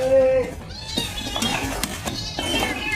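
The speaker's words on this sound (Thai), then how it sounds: "แมว" A mother cat meows with a drawn-out, tonal cry at the start, followed by shorter, rougher vocal bursts and some background noise.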